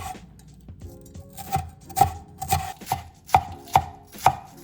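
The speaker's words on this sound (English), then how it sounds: "slice the onion and green onions" A knife slicing onion and green onions on a cutting board, about eight crisp, evenly spaced chops, close and distinct with no talk.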